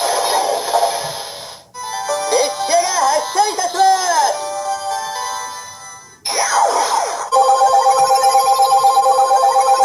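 Ressha Sentai ToQger Renketsu Bazooka toy giving off a shrill, obnoxious electronic ringing like a telephone, its warbling tones repeating loudly and close with short pauses between bursts.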